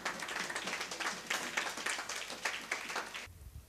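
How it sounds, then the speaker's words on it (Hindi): A church congregation claps in welcome during a Hindi-language service, a steady patter of many hands at a moderate distance that stops abruptly near the end. "हम ताली बजाकर उनका स्वागत करें"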